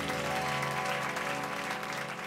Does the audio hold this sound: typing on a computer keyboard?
no